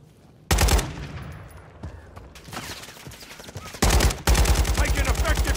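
Modern Warfare III multiplayer gunfire: a loud close burst of automatic fire, a pause with quieter distant shots, then two more sharp rapid-fire bursts, with a voice speaking briefly in the gap.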